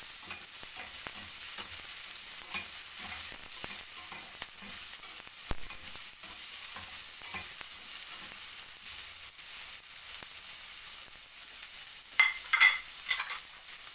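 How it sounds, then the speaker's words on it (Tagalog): Whole garlic, onion and a long green chili frying in a pan for a budget beef-with-coffee dish, a soft continuous sizzle with frequent stirring scrapes, and a brighter burst of hissing near the end. "ilagay na natin itong bawang, sibuyas, siling haba"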